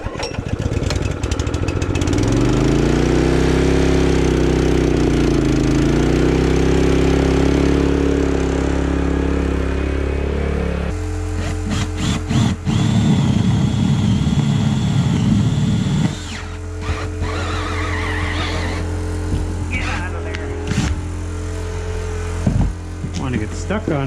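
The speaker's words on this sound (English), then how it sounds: "I'll probably put a hole somewhere in here, as close as I can get to the wall with my drill." A power drill bores a hole through the floor of a tiny house near the wall, its loud motor whining steadily and then turning choppy and rattling as the bit grinds through insulation and OSB.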